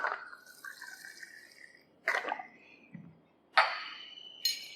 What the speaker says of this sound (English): Now I am taking distilled water into a small beaker.